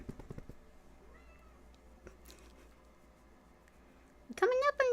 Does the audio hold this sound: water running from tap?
no